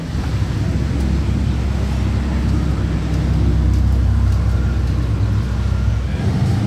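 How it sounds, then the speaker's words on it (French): A Ferrari 488 Pista Spider starting up on a Monaco street, a loud, steady low engine rumble holding throughout amid surrounding traffic and wind noise. "il y a la Pista Spider qui va démarrer"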